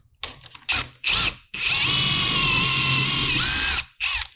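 A drill driving pocket holes through a jig with no dust vacuum running, several short whirring bursts followed by one long sustained drilling run, then another brief burst, loud and close.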